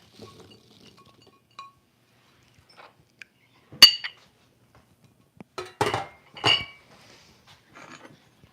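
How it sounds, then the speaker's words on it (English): Diced apples drop into a buttered metal pan with a few scattered clinks and clatters, a couple of louder bursts of rattling, with no talking. "I'm going to add my diced apples to the pan"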